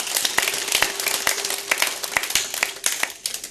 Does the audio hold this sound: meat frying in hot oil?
no